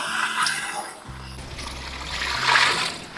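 About two litres of water poured into a pot holding beef leg pieces, a steady close trickle and splash that eases briefly midway and then swells again toward the end.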